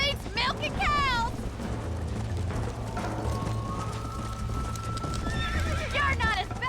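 Rapid hoofbeats of a galloping horse with loud neighs at the start and end in Red Dead Redemption, over steady game background noise and some voices.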